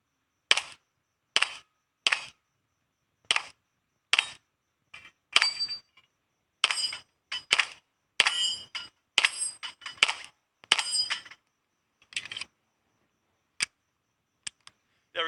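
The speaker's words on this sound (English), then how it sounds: "I said we get a little bit closer just so we could ring some steel." A Beretta M9A3 9mm pistol fires at steel targets in a series of sharp, separate shots, some spaced singly and some in quick clusters, each a crisp crack followed by a brief metallic ring, with no voices.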